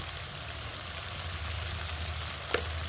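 Chicken with green peas and coriander sizzles steadily in a pan while being slow-cooked, a constant fizzing hiss with a soft clink near the end and no talk.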